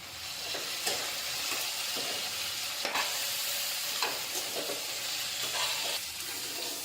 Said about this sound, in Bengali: তো মশলা ভাজা ভাজা হয়ে গেছে,